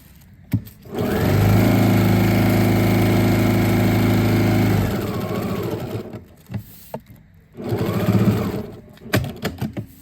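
A sewing machine stitches outdoor furniture cushion fabric in a long steady mechanical run, stops, then hums again in a shorter burst, close and loud with light handling noise between.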